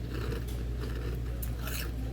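Chocolate cereal in milk, a mix of Cocoa Puffs and Cheerios, is crunched by someone chewing close up, giving a soft, steady crunching over a low background hum.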